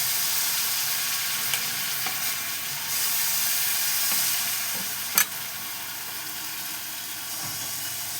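A steady, hissing sizzle fills the air as mango patishapta batter meets a hot pan brushed with ghee, continuous and close, with a faint tap or scrape now and then and nobody speaking.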